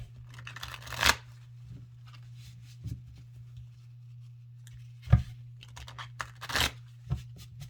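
Tarot cards are shuffled in a few separate bursts of crisp riffling and slapping, with quiet pauses between and a low steady hum underneath.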